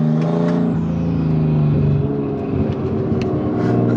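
Rough Nissan Skyline R32 with an RB20 engine revving steadily while driving, a loud, close, continuous engine drone with throttle rises and falls throughout.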